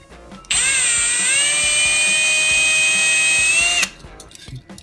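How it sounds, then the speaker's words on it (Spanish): A power drill whines steadily at high pitch for about three seconds, drilling out a rivet, starting and stopping abruptly, with quiet clicks before and after. "a meterle el taladro y vamos a volarle su remache"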